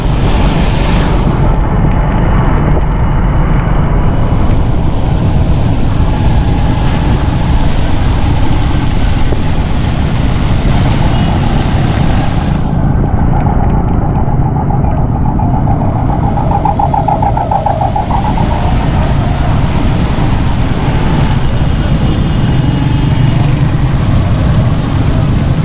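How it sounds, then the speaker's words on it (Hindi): Heavy rain storm over a traffic jam in Punjab Colony, where stalled motorcycles crowd the road: a loud, unbroken roar of wind and rain blends with deep engine and truck rumble for the whole stretch, with no talk. "बहुत ट्रैफिक जाम हो चुका है, कई लोगों की मोटरसाइकिलें भी बंद हो गई हैं।"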